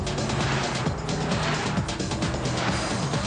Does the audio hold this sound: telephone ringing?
no